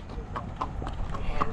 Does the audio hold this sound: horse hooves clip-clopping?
yes